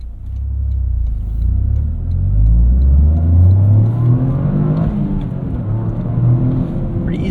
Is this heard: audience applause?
no